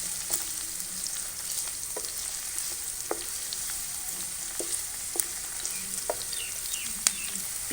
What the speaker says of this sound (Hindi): इसमें हम कटे हुए प्याज डालेंगे और इसे अच्छी तरह से फ्राई करेंगे।